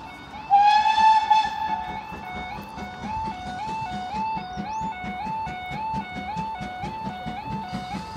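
A loud steam whistle blows, followed by Dean Forest Railway steam locomotive 5541 passing the Lydney A48 bypass level crossing, Gloucestershire, with rhythmic clanking and hissing steam, fairly close.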